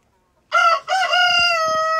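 A young azure or azure-cross rooster crowing in an aviary: after a brief silence, one loud, close cock-a-doodle-doo, with a short break after the first note and then a long sustained final tone.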